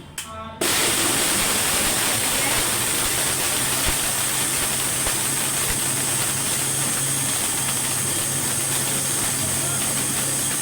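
An electric blender mixing a mango shake starts abruptly after a brief moment and then runs as a loud, steady whirring roar, continuous to the end with no pause.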